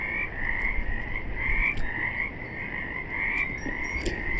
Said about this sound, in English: Do you hear these frogs?